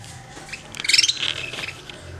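A brood of six crested canary chicks calls from the nest in a brief cluster of thin, high, rapid cheeps that peaks midway and then tapers, close by with no talking.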